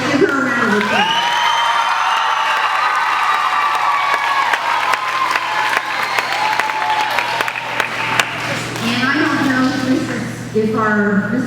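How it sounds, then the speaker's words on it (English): At a school awards chapel, an audience breaks into sustained clapping with some cheering and whoops, loud and continuous for several seconds, while a voice speaks over the applause at the start and again near the end. "So let's give her a round of applause."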